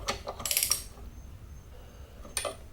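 Ratchet wrench tightening the aluminum head gasket bolts on a Briggs and Stratton 550ex engine: two short bursts of quick clicking near the start, a quiet stretch, then another brief burst of clicks, close and alone.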